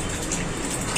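Spring onions being washed by hand in a bowl of water, a steady close splashing and sloshing that runs the whole time, with a slightly louder swish at the end.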